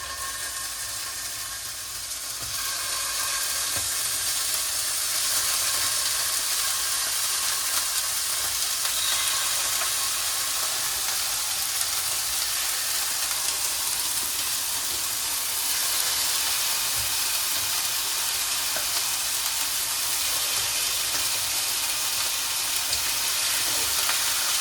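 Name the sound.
chicken wings frying in oil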